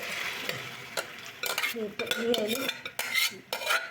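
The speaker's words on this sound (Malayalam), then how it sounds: "ബീഫ് ഒന്ന് മിക്സ് ചെയ്യട്ടെ." Beef curry stirred in a pot with a metal spoon: repeated scraping and clinking strokes against the vessel over a soft sizzle, close and fairly loud, no voices.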